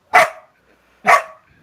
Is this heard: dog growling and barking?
yes